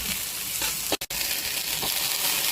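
Onion and garlic sauté in a hot pan for pork dinuguan, a steady close crackling sizzle that runs throughout, broken by one brief near-silent dropout partway in.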